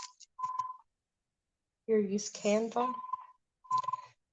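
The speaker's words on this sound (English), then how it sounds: "That's the phone ringing here" A telephone rings indoors in short repeated electronic bursts, separated by a stretch of talking from a nearby voice.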